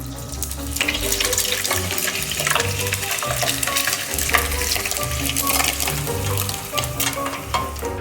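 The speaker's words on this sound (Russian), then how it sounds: "Ну а пока что заливаем жиром утиные ножки." Hot fat poured over raw duck legs sizzles and crackles steadily and loudly, with some liquid splashing, while low rhythmic music plays underneath.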